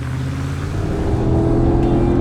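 A 2018 Ford F-150 SuperCrew with the 5.0-liter V8 revving close by, a deep throaty rumble that swells and grows louder over a couple of seconds.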